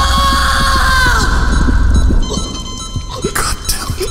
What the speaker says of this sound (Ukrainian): Я почула крики.